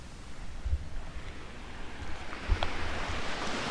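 Sea waves and surf washing at a beach resort amid mountains, a steady broad wash with wind noise on the microphone and a couple of soft low thumps, no talking.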